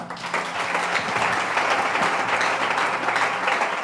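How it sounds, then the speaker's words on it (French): A church congregation applauds and cheers to acclaim the Lord, dense sustained clapping filling the room after a preacher's voice fades out at the start. "Est-ce qu'on peut d'abord acclamer le Seigneur?"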